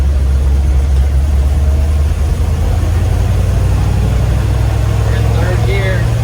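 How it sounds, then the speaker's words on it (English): A 1968 Suburban engine running steadily on its first drive in over 20 years, a loud constant low rumble heard from inside the cab, with people talking occasionally over it. "this is the first time we've ever driven this 1968 Suburban"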